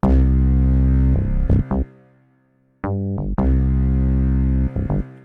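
A layered low-end synth patch and bass play sustained notes together, loud and thick, in several held phrases broken by brief stabs and one short silent gap before the low tones return.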